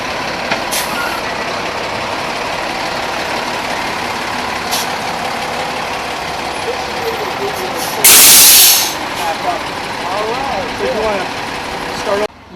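Fire truck idling at close range with a steady engine rumble, a sudden loud hiss of air brakes releasing partway through, and a few brief beeps, while people talk nearby.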